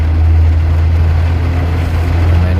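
A 2008 Honda CR-V with a 2.0 engine and automatic gearbox idles in neutral while stopped at a red light, giving a steady, smooth low hum that stays close and even throughout.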